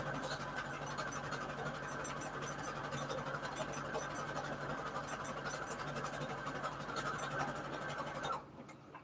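A sewing machine runs steadily, stitching fabric onto index cards, its motor humming in one continuous close whir for about eight seconds before it abruptly stops.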